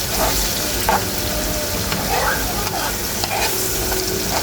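Tomato paste, homemade tomato, paprika, pepper and salt fry in oil for a sauce, giving a loud continuous sizzle close up, with occasional stirring scrapes in the pan.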